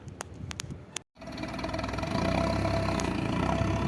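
A YuMZ tractor engine starts up after a few short knocks and a brief pause, then settles into a steady, rumbling idle close by.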